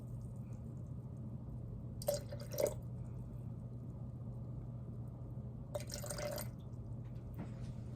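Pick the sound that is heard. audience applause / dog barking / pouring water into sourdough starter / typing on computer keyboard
pouring water into sourdough starter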